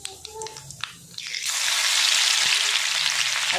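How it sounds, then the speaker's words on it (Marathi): Ginger-garlic paste dropped into hot oil with mustard seeds and cumin erupts into a loud, continuous sizzle after a few quiet clinks and pops, holding steady to the end. "आता लसूण पण छान तळलाय"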